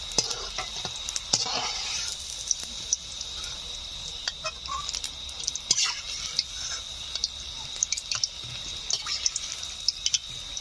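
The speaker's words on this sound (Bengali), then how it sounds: "পরবর্তী পকোড়াগুলো একইভাবে ভেজে নিচ্ছি।" Chicken pakoras fry in hot oil, village style, with a steady close sizzle and crackle. Scattered clicks and scrapes of a utensil stirring in the pan run through it.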